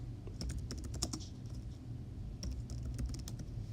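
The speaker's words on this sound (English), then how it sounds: "I will type in my title" Quiet clicking of computer keyboard keys as a book title is typed into a digital library search, two short bursts of quick keystrokes separated by a pause.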